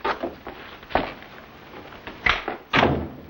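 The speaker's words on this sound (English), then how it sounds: "Close the door." A door shuts in an old black-and-white feature film, with a few soft thumps and shuffles followed by a firmer closing thud near the end, moderately close and heard alone.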